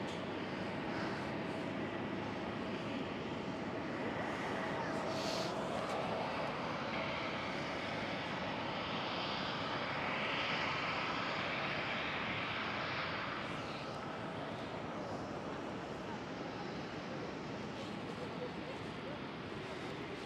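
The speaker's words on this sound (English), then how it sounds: "the 777-200 of KLM with the KLM Asia logo is pushing back right now" A KLM Boeing 777-200 in KLM Asia livery pushes back at Schiphol, its engines giving a steady, moderately distant jet rumble and broad whooshing roar that swells slightly midway and then eases, with some wind noise across the microphone.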